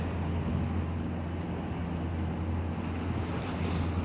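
Atlantic Ocean aboard a sailboat under about 10 knots of wind: steady wind noise buffeting the microphone over a continuous wash of waves, fairly faint, with no talk.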